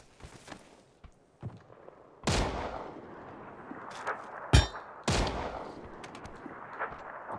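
Gunfire in the PUBG video game: several sharp, loud single shots spaced irregularly over a low background, with a metallic clang among them.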